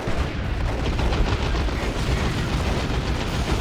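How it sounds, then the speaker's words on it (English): Shotgun blasts and battle noise in Warhammer 40,000: Dawn of War 2, Space Marines against Orks, heard as a dense, noisy wash of gunfire and explosions with no clear separate shots. "The War Boss drew the shotgun blast."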